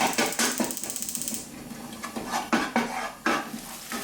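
Garlic and soy sauce stir-fried in a pan for mapo tofu: a clattering, scraping spatula against the pan over a sizzling bed, with rhythmic strokes early on and a few sharper knocks later, close and fairly loud.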